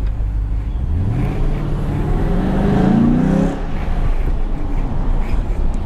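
A 2006 Pontiac GTO drives and accelerates with a deep engine roar that climbs steadily in pitch as the revs build, loud and close with no talking.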